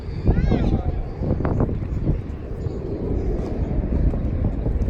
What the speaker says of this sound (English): There's some planes taking off over there.